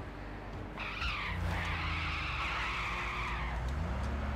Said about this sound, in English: That car just rolled.